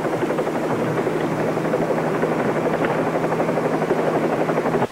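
Helicopter 38 Bravo flies overhead, its steady rotor chop and engine drone loud and continuous throughout with no voices.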